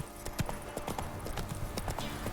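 Roach, the horse in The Witcher 3, trots with rhythmic clip-clopping hooves, close and moderately loud over a bed of ambient game sound, with no clear talking.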